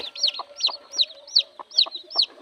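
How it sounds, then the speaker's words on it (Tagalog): Newly hatched red junglefowl chicks, six of them, peep in a rapid series of high, bright chirps repeating about twice a second, close by with a faint background of lower farmyard murmur. "Ayan ang mga sisyo ng ating mga labuyo."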